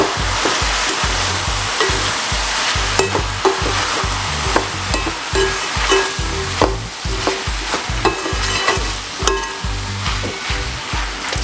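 Eggplant stew with paprika stirred in a pot, loud sizzling with rhythmic spoon scrapes and knocks repeating every half second or so, no talk.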